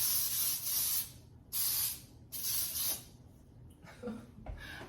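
Baking cooking spray containing flour hisses into cake pans in three or four short, close bursts, followed by faint handling noises of the pans.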